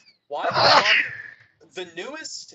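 A single loud, close sneeze bursts out, followed by someone speaking.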